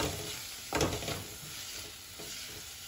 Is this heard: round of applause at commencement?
no